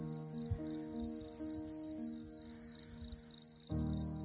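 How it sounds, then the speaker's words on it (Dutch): Crickets chirp in rapid repeating pulses across the French countryside on the way toward the Pyrenees, steady and clear, over a low hum with tones that shift and thicken near the end. "Even weer zo'n stil moment waarin je krekels hoort."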